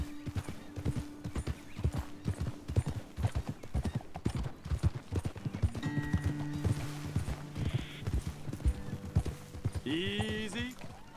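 Horses' hooves clip-clop steadily in Red Dead Redemption 2 as riders move along a trail, a close, even rhythm of hoofbeats joined near the end by a horse's whinny and a snort.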